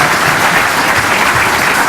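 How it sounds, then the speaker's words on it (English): Audience at an annual community report meeting giving a sustained round of applause, a dense even roar of clapping with no break. "so that deserves a round of applause in itself"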